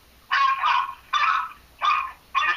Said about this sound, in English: The puppies are barking because somebody just rang the doorbell